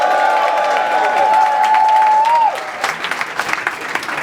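A crowd at a Don't Flop rap battle applauds and cheers loudly for an MC in a steady dense wash of clapping that eases slightly toward the end, with a brief tone running under it.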